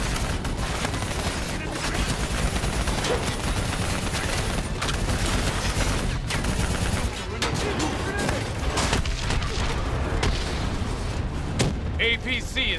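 Sustained volleys of gunfire and booming explosions rattle through a Call of Duty Black Ops 3 firefight aimed at a VTOL aircraft, loud and dense with near-constant shots and blasts, while voices shout over the battle.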